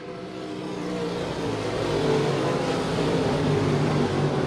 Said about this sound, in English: Lunau and Moore in the race for fifth.